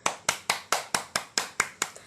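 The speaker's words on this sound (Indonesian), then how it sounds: "kita berikan tepuk tangan untuk Aura yang sudah berani pimpin doa" Classroom of students clapping for a classmate, about nine sharp, evenly spaced claps in a steady unison rhythm, fairly close and clear with no talk.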